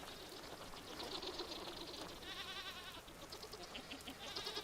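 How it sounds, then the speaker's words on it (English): Goats bleating in the survival game Vintage Story, several overlapping wavering calls over a steady noisy ambient bed, close and moderately loud throughout. "One goat per pen."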